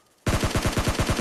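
A rapid burst of automatic gunfire in a video game, about ten evenly spaced loud shots in just over a second, sharp and close.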